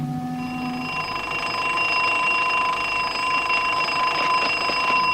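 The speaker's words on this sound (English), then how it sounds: "Sound the alarm." An alarm rings continuously with steady, high tonal tones, loud and unbroken throughout, with no voices.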